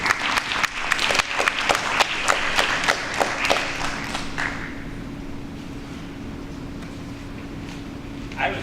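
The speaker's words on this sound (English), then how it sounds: "I was giving some applause" Audience applause at an African naming ceremony, a burst of brisk clapping from a small crowd that fades out after about four seconds into quiet room noise with a low hum.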